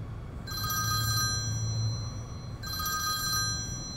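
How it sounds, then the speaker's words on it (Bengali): A phone rings in two electronic bursts separated by a pause, bright tonal trills over a low steady background hum. "ফোনটা বেজে উঠল।"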